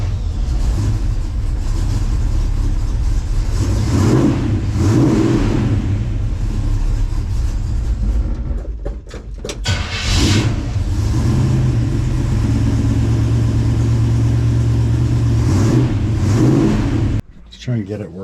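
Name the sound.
1967-72 Chevrolet C10 truck engine started and revving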